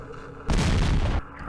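Artillery fire in Campaign Series Middle East at the Battle of Jerusalem, a single heavy boom that hits loud and rumbles for under a second before fading to a low ambient hum.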